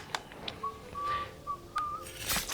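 A clear, thin whistle from the video game Gwent plays a few short sustained notes in a simple tune, with soft clicks and rustles around it.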